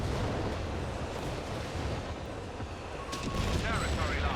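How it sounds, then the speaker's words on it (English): Artillery barrage in Company of Heroes 3, a 4v4 match on Mignano Gap: a steady low rumble of distant shelling and gunfire, moderately loud and continuous, with a sharper burst near the end. "here comes all the artillery"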